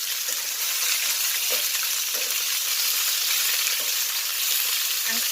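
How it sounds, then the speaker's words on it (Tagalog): Pork pata frying in hot oil makes a steady, bright sizzle throughout, with soft thumps and bubbling bursts each time the meat is flipped over and over, no voices. "Ito, atin na siya baliktarin ng baliktarin."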